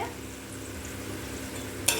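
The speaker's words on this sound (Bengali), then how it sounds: "পেঁয়াজটা ভাজা হয়ে গিয়েছে" Chopped onions frying in oil in a karahi give a steady, fairly quiet sizzle and crackle throughout, with a brief metallic clink near the end.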